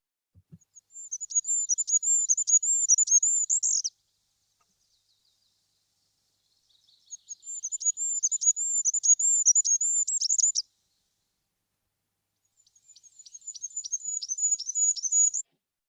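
A woodland songbird sings three bright, rapid trilling phrases at dawn, each rising in a quick run then ending with a falling flourish, separated by clear silences.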